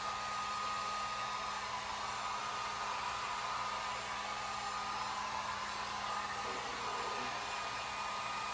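Steady, constant whoosh of a heat gun drying stencil paint on Christmas decor, a continuous close blowing hiss with a low hum underneath, no talking.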